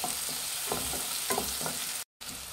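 Onion, tomato and capsicum fry in a pan while being stirred, a continuous close sizzle with a few soft scraping stir strokes and a brief dropout near the end, no voices.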